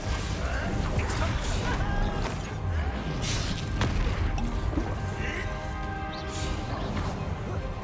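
A Bombarda spell explosion in Hogwarts Legacy arrives amid a dense, continuous din of magical combat, with booming blasts and crashes layered over one another throughout.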